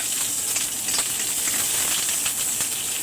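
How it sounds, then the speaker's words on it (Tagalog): Steady loud sizzling hiss of garlic, onion and chili sautéing in hot oil in a pan, continuous and close with no voices. "Igisa lang natin."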